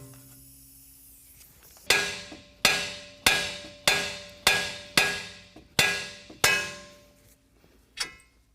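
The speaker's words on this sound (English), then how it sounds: "we're going to strike the boss here to break that loose so the tie rod can come out" A hammer strikes the steering knuckle boss of a 2022 Ford Maverick to free the tie rod end: eight sharp, ringing metal blows land in a steady rhythm, loud and close, then one lighter tap follows.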